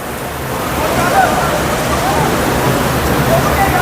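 Heavy rain pours down in the UAE as a steady, dense hiss of falling water, loud and continuous throughout with no voices over it.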